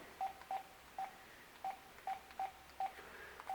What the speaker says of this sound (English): I'm going to call my cell phone